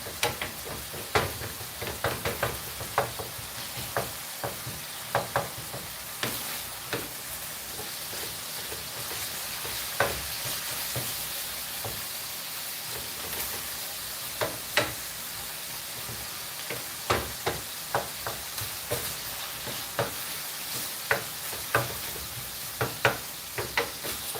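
Taco meat sizzling steadily in a pan while a wooden spoon stirs and scrapes, giving irregular knocks and clacks over the constant crackle, close and without talk.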